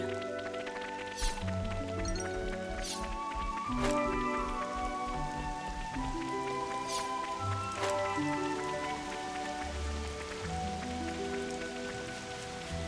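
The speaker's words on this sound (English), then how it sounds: "Rain!" Steady rain patters on surfaces in Xenoblade Chronicles 3, beneath layered music and ambient game sounds, continuous and moderately loud throughout.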